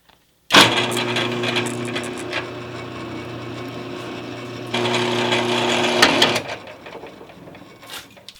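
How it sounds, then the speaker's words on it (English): A power drill boring a large hole in steel runs steadily with a grinding, whirring tone, bearing down harder partway through, then winds down and stops. "basically what you want to do is drill a fairly large hole"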